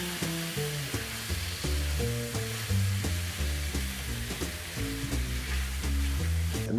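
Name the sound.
shrimp and vegetables sautéing in a pan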